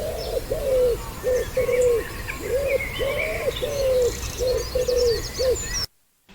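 A bird sings a repeated phrase of low, hoarse cooing notes in a steady rhythm, like a pigeon or dove, sounding a bit like the words "my toe hurts Betty." Fainter chirps come from further off, then it cuts to silence at the end.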